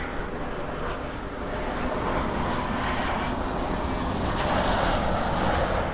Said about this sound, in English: Airbus A350 coming in. And check this out. A little Airbus A350 action for you.